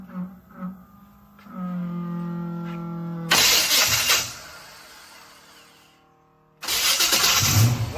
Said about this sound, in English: we're actually gonna try to start up this big 502 with this thing